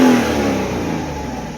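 A 1993 Mercedes 500E V8 revs to clear moisture from its exhaust, producing a loud, brief rev that peaks at the start and then winds down into a falling, throbbing engine drone.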